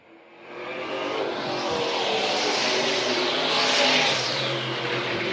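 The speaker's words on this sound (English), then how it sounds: "Wade Skipper flying through the field in that car number 37 of the back straightaway" Number 37 vintage race car at the Southern Vintage Nationals in Dillon, SC roars down the back straightaway of a dirt track, its engine swelling loud and steady as it passes, with no talk.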